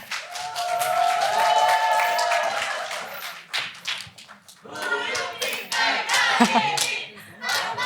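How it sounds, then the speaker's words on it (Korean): Audience applause and clapping for a presenter introduced at a public-sector HRD contest final, a dense burst of hands that fades briefly then swells again, with crowd murmur and a few voices mixed in. "큰 박수 부탁드립니다."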